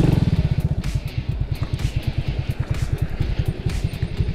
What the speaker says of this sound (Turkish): şimdi sizler için Altay Tank 50 motorla bu rampayı nasıl çıktığımı göstereceğim